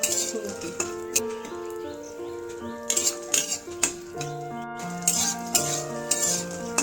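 A spoon stirs lentil dumplings (fulbori) frying in hot oil, giving repeated light metallic clinks and scrapes close by under steady background music.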